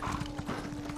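A herd of horses gallops in the video game Elder Scrolls Online, with steady overlapping clip-clop hoofbeats drumming at a moderate, even level throughout.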